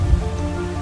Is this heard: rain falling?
yes